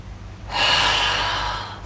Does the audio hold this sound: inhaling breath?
yes